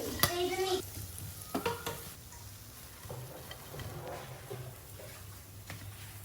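A masala-filled snack fries in a pan with a faint steady sizzle. A few clatters of utensil stirring and scraping come near the start.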